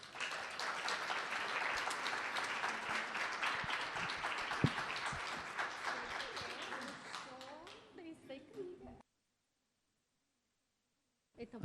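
Audience applause for a guest on a Portuguese talk show, dense sustained clapping with some cheering that fades around eight seconds, then silence.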